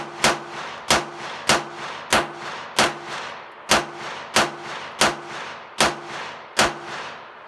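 Sig MPX fired at steel targets outdoors: twelve loud, sharp shots in a steady, evenly spaced rhythm, each with a brief ringing tail and no talking between them.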